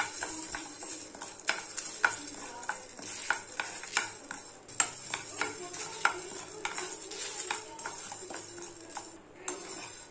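Cumin seeds and dried red chillies dry roast in a pan for pepper chicken, with light repeated scraping and stirring clicks of a spoon against metal, soft and close, in an irregular rhythm.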